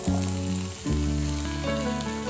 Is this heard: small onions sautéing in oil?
yes